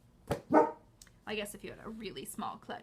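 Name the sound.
dog barking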